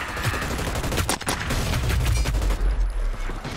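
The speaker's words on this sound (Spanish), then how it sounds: "Me disparan desde oeste" Rapid bursts of gunfire crackle in the battle royale video game Hyper Scape, a dense fusillade of close, loud shots running throughout with brief pauses and no voices.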